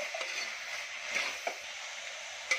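Tomatoes frying in a pan, stirred: a soft, steady sizzle with a few light scrapes and clicks of a utensil against the pan, quiet and with no talking.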